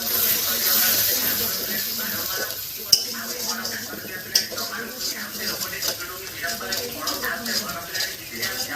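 A pan of chicken curry hisses and sizzles steadily after a little water is added, a broad bright hiss running throughout with a couple of sharp clinks, while a person talks over it.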